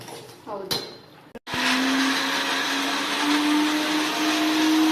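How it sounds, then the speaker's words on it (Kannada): A kitchen mixer grinder blends boiled jaggery and coconut, kicking in after a few brief clinks and handling sounds into a loud, steady, high whirring drone that runs to the end. "ಅದೆರಡು ಕುದಿಸ್ಬಿಟ್ಟು ಅದು ಮಿಕ್ಸಿಗೆ ಹಾಕ್ಬೇಕಾ?"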